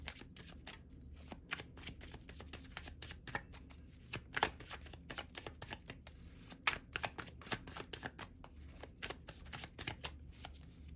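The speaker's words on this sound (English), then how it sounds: "I'm just going to pull out your tarot cards." Santa Muerte tarot cards being shuffled close up, a steady run of quick riffling and flapping bursts that goes on for about eleven seconds, fairly quiet and with no speech.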